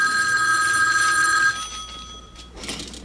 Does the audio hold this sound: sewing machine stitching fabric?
no